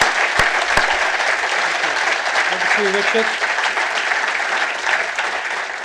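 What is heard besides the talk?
audience applause after panel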